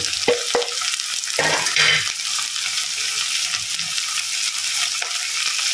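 Tomato going into a hot pan with ginger garlic paste, stirred and frying for a gourd and potato curry: a steady sizzle with scraping spoon strokes and a few clanks near the start, no talk.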